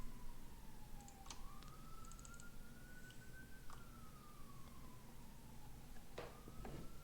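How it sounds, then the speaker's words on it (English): Emergency siren outside, distant and faint, with a slow wailing tone rising and falling over several seconds above low background rumble. "I wonder if you guys can hear the sirens or not."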